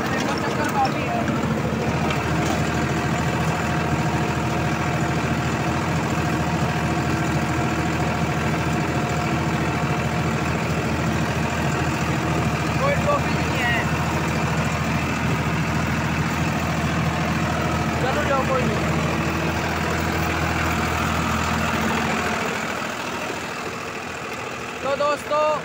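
A Farmtrac 65 EPI tractor engine idles and chugs steadily at close range for a long stretch, then the sound drops off near the end.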